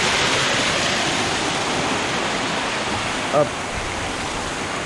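Water pours steadily over the edge of an infinity pool at a resort, a loud continuous rushing close by, with someone briefly speaking over it.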